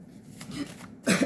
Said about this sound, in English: i didn't know if that was going to be a burp or a cough